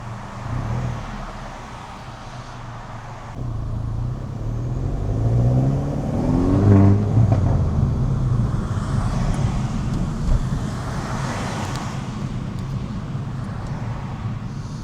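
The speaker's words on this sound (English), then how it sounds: "If you're into cars, bikes, anything, just engine and exhaust noises." A Mini Cooper S engine and exhaust while driving, a steady low drone that swells mid-way, with rising, revving tones as it accelerates before settling back into a continuous hum amid road noise.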